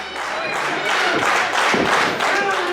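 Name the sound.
wrestling crowd clapping and cheering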